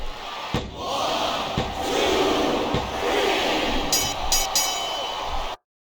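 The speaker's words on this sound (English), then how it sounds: "I think these superstars are getting some feedback from the crowd, JR." Arena crowd in the WWE SmackDown vs Raw 2007 video game during a Survivor Series TLC match, a dense steady roar of cheering that fills the clip with a few sharp thuds and bright bursts near the end.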